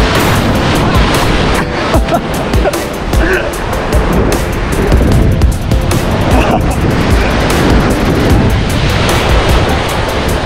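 Strong ocean waves pound the shore of Capones Island, Zambales, in a loud, continuous roaring wash buffeted by wind noise on the microphone, with surges rising and falling throughout.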